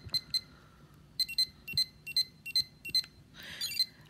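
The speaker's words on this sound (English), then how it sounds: "the beeps on this device, on this version 4, are a bit fucked up. They're a bit buzzy and weird" Buzzy, slightly harsh electronic beeps from a Digimon VPet version 4 handheld, sounding in quick pairs at a steady rhythm, then a rougher burst near the end, close and clear with no talk.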